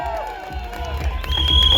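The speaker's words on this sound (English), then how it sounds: "Guys, come on, I need you to cheer for your team members." Office-party crowd cheering and whooping for team members during a timed game at a company fest, a lively burst of shouts and clapping from a close group.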